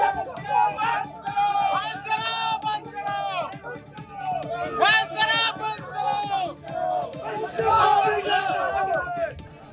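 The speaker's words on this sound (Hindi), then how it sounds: "लेकिन जैसे ही पुलिस की टीम वहां पहुंची, भीड़ उग्र हो गई और फिर पुलिस से नोकझोंक करने लगे।" Agitated crowd of Congress party protesters in Amethi confronting police, a dense, continuous babble of many raised voices and shouts rising and falling in surges, with several voices prominent in the foreground.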